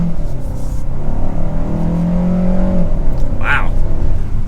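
A 2022 KIA K5 EX Premium accelerates in sport mode, its engine droning in a loud, steady low hum with a tone that climbs gently, and a brief sharper noise near the end.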